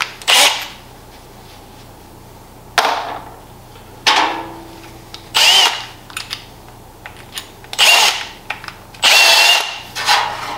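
A power drill with a hole saw arbor spins up repeatedly in short, loud bursts close by, separated by brief pauses and small clatters.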